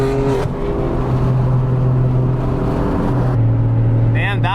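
A car engine runs steadily during a late night drive on the Pacific Coast Highway, a loud low drone with a shifting pitch, close and continuous, and a brief higher whine near the end.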